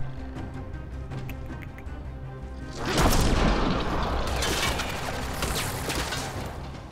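A loud, violent explosion erupts in the Mass Effect Andromeda video game, a sudden broad blast that follows a stretch of quieter game sounds and then rolls on as a sustained roar of debris and rumble.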